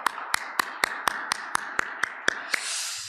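Congregation at a Sunday church service in Calgary claps to encourage the children: about a dozen evenly spaced, sharp claps in a steady beat, fairly close, ending in a soft wash of noise.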